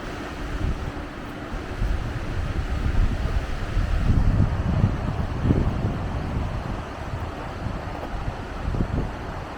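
Two mountain rivers meet and rush together in Svaneti, Georgia, feeding the Inguri, as a loud, steady broadband roar of churning water with gusty wind noise and no pauses.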